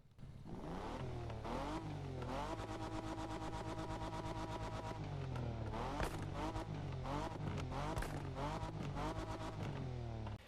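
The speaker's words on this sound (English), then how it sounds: "this thing is going to be a V6, which really does sound great in this game" A V6 Toyota Tacoma pickup engine in The Crew Motorfest video game revs steadily, pitch climbing and shifting through gears in a smooth, continuous roar.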